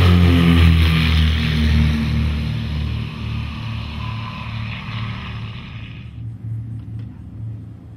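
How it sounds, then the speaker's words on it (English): Twin-engine Piper Seneca airplane engines drone steadily with a strong low harmonic hum and faint beating between the two engines, loud and close at first, easing slightly as the higher hiss drops away. "the twin-engine Piper Seneca."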